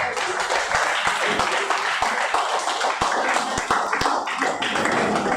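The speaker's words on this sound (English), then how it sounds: "may you give my librarian a standing round of applause" Seminar audience giving a standing round of applause for a librarian: dense, sustained clapping from many hands throughout, fairly loud and close, with a few sharper individual claps standing out.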